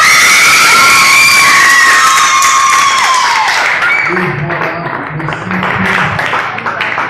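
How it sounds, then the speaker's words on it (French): A loud crowd at a Bible contest award moment cheers, shrieks and claps for the Bon Samaritain team, high excited voices soaring over the applause before a speaking voice cuts through midway. "on vous demande d'applaudissements l'équipe Bonsama"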